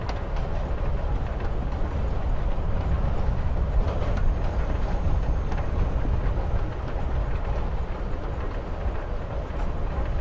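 Train ride ambience in the video game Life Is Strange: Before The Storm, a continuous low rumbling roll with faint rhythmic rail clatter, steady and fairly loud throughout with no talking.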